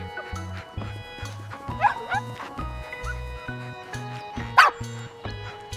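Puppies playing in a garden bark and yip in quick, repeated bursts, with some higher whimpering yelps mixed in at close range.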